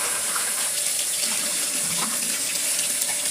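Steady stream of tap water running into a sink with hand soap, a continuous close hiss with no voices, used for washing a metal pendant during oxidizing.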